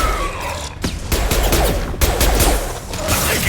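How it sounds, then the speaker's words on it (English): Rapid gunfire in Mass Effect 2 combat, dense volleys of close, loud shots crackling almost without pause, with no talk heard. "Taking fire!"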